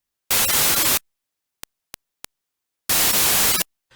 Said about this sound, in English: If I play some white noise, you'll notice that the peak levels of both these sounds are very similar